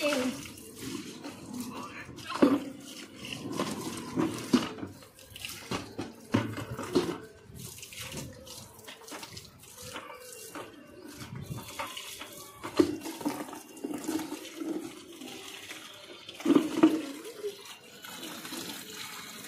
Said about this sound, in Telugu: వాటర్ వస్తుంది.